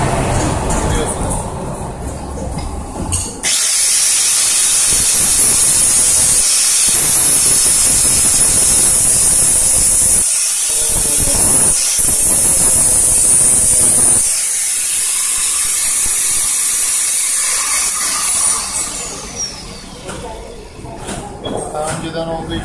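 A heat gun with a slotted nozzle blows hot air onto a car part, giving a loud, steady, close hiss that runs for most of the stretch and then tapers off near the end.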